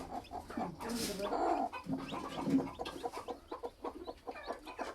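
A country hen clucks with newly hatched chicks peeping close by, soft and continuous, with a person speaking quietly in between.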